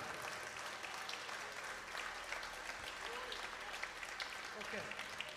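A crowd claps steadily in sustained applause after a clarinet performance at a polka festival, a dense patter of hands filling the room for several seconds.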